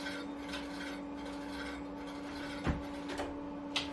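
A worn three- to four-year-old mountain bike disc brake rotor rubs against the pads as the wheel turns, giving a faint, steady scraping hum with a few brief louder scuffs near the end.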